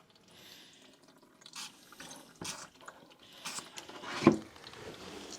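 Fuel draining out of a small engine: a soft, close trickle and drip of liquid with a few brief splashes, faint and uneven, without talking.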